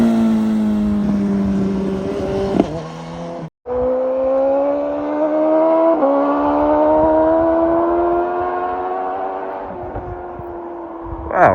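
A 2017 Gen 3 BMW motorcycle pulls up nearby and revs, its engine note rising and falling in pitch through gear changes, loud and close, with a brief cut partway through and a final burst of revs.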